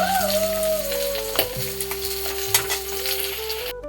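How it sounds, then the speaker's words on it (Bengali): Fish fries in a pan of oil with a steady crackling sizzle and occasional sharp spits, set against a droning, tonal background hum in a home kitchen. "এই যে মাছ ভাজছি"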